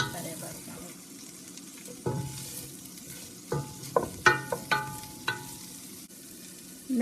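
Salchichon salami frying in its own rendered fat, stirred around a pan: quiet crackling sizzle punctuated by a cluster of sharp utensil taps and scrapes in the middle, close up with no talking.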